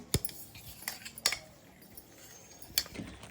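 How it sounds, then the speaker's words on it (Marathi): Ground coconut and peanuts stirred into a sweet jaggery mixture for tilgul vadi, a few sharp clinks of a metal spoon against the pan, spaced apart over a quiet background. "तर आपण खोबरं आणि शेंगदाणे हे पण बारीक करून घेतलेले आहेत, ह्याच्यामध्ये मिक्स करते आता."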